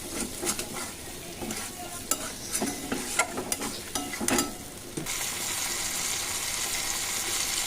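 Chicken liver kasha with potatoes is stirred in a pan, with irregular scraping clinks and clatter over a low sizzle for about five seconds, then a steady, louder frying hiss with no talking.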